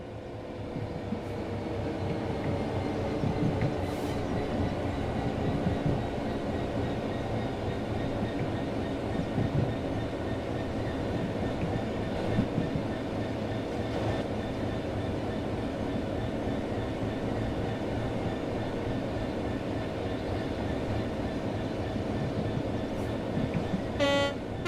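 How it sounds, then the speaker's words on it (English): A locomotive in Train Sim World 4 coasts on level rails with the throttle closed, giving a steady, continuous rumble of engine drone and wheel noise that holds at an even level throughout, with a faint tonal hum above. "The train will then coast on level ground, and the train will only slow down very gradually."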